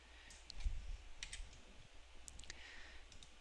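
Computer mouse clicking while navigating EMR software, a series of faint, sharp, close clicks spread irregularly over a quiet background hum, with no talk.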